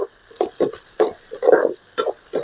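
Mint leaves tossed into hot oil for a prawn kurma, with a spoon stirring in short, uneven scrapes over a soft sizzle, close and fairly loud.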